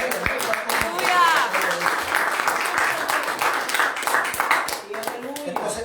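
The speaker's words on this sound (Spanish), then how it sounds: "eso se merece un buen aplauso para el Rey de Reyes" Church congregation at a Thanksgiving service giving a sustained round of applause, steady dense clapping at moderate level mixed with voices and some musical tones throughout.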